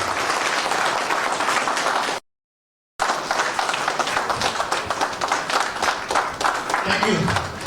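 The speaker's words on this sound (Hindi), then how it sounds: "खड़े होकर के सर एक बार जोरदार तालियां बजाने सर के लिए" An audience at the Jashn-e-Gorakhpur event in Gorakhpur breaks into loud, dense applause from a crowd, sustained before and after a brief cut, with voices mixed in among the clapping.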